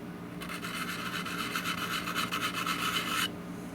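Sandpaper rubs by hand over a low spot on a 1923 16-inch GE AOU loop-handle fan during restoration, a close rhythmic rasping of quick strokes lasting about three seconds.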